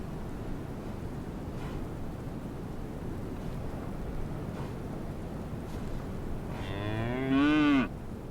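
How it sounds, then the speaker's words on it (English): A cow in labor gives a single loud, drawn-out moo near the end, heard over steady wind noise outdoors. "The cow in labor, of course, is now at the center of the family's attention."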